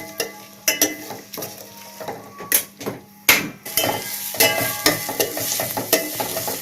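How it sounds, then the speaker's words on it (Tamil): Cauliflower and capsicum sautéing in a pan for gravy, sharp spoon strikes and scrapes against the pan in an uneven rhythm over a continuous close sizzle, loud and without speech. "ஒரு 5 நிமிஷம் நல்லா வதங்கலாம்."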